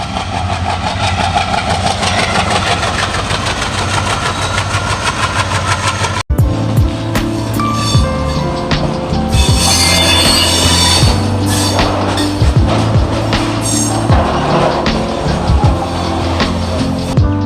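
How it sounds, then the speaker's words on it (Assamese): A train arriving at New Bongaigaon Junction station rumbles and clatters steadily, with a low, droning engine and screeching, rattling noise building midway. Loud and close, with no voices. "ৰেল আহিছে ট্ৰেইন আহিছে"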